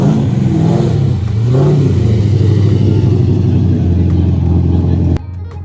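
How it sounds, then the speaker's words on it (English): An LS V8-swapped Nissan S14 at a Cars & Coffee meet gives a low, steady engine rumble that rises briefly as it revs. The sound holds for about five seconds, then cuts away abruptly to quieter ambience. "Do you hear that rumble in the distance? It's an LS-powered"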